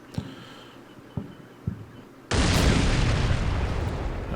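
A tank in the wargame Combat Mission Black Sea fires its cannon: a few faint thuds, then one sudden loud blast that swells into a long, steady roar of rumbling noise without fading.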